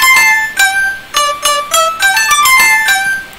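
A dry synth pluck lead with no effects plays a bright melodic line of short, evenly spaced plucked notes, each decaying quickly, loud and alone with no voices.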